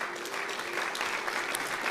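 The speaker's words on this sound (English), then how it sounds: "there were pauses for applause, and everyone clapped" Audience applause following a speech at a political event, a steady dense clapping from a crowd that stays loud and even throughout, with no pauses and no voices rising above it.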